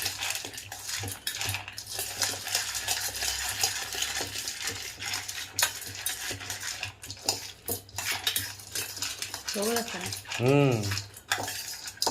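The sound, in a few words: stirring spiced chickpeas in a hot pan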